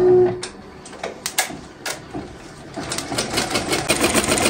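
An embroidery machine stitches a design onto a cloth piece backed with stabilizer for a baby's burp cloth, starting with a few separate clunks and then settling into a steady, close, rapid mechanical chatter.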